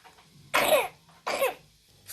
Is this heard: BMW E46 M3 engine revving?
no